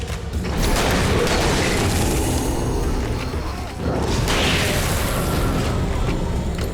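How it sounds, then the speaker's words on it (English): Flashbang grenade going off in Alan Wake Remastered, a loud booming blast with a roaring, noisy wash that sustains, dips briefly and swells again, close and heavy with no talk. "I accidentally flashbanged, I think"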